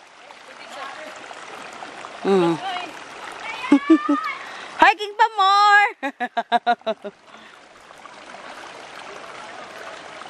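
A mountain stream near a hanging bridge on Mt. Kulis flows in a continuous broadband rush of water beneath several bursts of people talking and calling out loudly.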